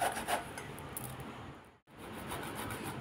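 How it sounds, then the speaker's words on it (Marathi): Guava being grated by hand for a Marathi-style salad, a steady close scraping rasp that runs without a break except for one short pause partway through. "अशा पद्धतीने आपण पेरू किसलेला आहे।"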